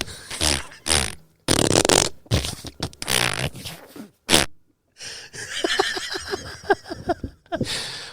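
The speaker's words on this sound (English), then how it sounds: "I don't know why the fart noise came" A comedic fart noise sound effect, triggered by a button during a podcast, comes as a long, sputtering burst of fluttering pulses after several seconds of loud talk and laughter.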